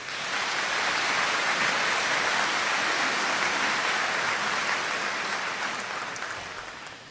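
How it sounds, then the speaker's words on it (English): Sustained applause from an audience at a senior recognition day ceremony honoring graduating students, a dense steady wash of many hands clapping that fills the space for about seven seconds before tapering off. "Let's give all these students a round of applause."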